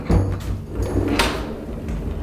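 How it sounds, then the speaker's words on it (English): A pocket door in a farmhouse slides along its track, a fairly loud rolling rumble with a sharp knock near the start and another bump partway through. "what a great idea to use a pocket door in here"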